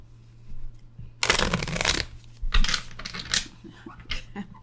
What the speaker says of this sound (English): All right, let's reshuffle.